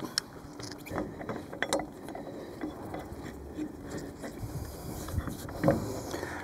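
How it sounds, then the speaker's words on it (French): Wheel nuts on a folding, lowering two-motorcycle trailer are run down with a ratchet wrench, giving quiet repeated clicking pawl ratchets and small metallic clinks over a soft background hiss, with no voices. "on va pouvoir serrer nos écrous de roue."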